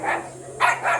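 Two sharp, close barks from a dog, with a pause between them and a low steady hum underneath.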